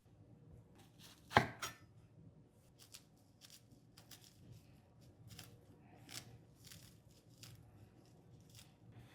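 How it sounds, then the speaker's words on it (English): Soft, close cutting sounds come from mushroom stems being trimmed and the mushrooms pulled apart for Japanese shabu shabu hot pot, with one sharp louder snap early on and then scattered light cuts and rustles in a quiet room. "Rinse them, cut off the stems, and then gently divide them into smaller portions."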